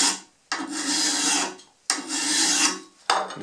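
A metal file is drawn over the edge of a card scraper in three long, loud rasping strokes, each separated by a brief pause, close-up and with no voices.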